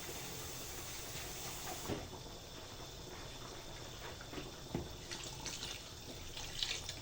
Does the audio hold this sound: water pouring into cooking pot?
yes